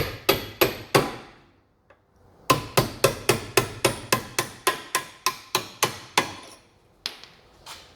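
A hammer strikes a nut on the rear spring of an Alfa Romeo GTV 916, about twenty sharp metallic blows close up: a brief group of four, a pause, then a steady rapid run with a couple of slower final hits.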